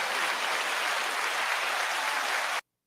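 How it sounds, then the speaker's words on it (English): An audience claps steadily to welcome a special guest, a dense, even wash of hand claps that stops abruptly. "We're going to give that man some hand claps."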